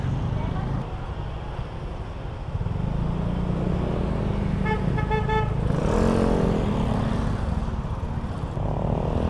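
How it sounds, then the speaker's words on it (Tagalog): Highway road traffic heard from a motorcycle taxi ride, with a continuous engine and road rumble and a short burst of repeated horn toots midway, while people talk over it. "Traffic."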